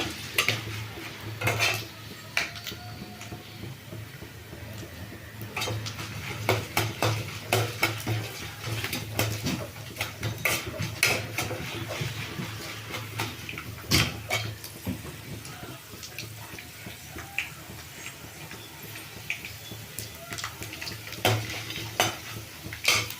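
Peanuts and chana dal fry in a pan while a metal spoon stirs and scrapes them, giving repeated clinks and scrapes over a steady low sizzle throughout.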